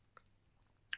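Crunchy, spicy, sour okra is bitten and chewed close by: a soft crunch early on, quiet chewing, then a sharper, louder crunch near the end, with no talk.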